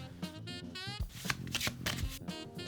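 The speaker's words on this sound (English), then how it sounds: "give it a good shuffle" A deck of Magic cards is riffled and bridged in several quick bursts close up, with music playing underneath.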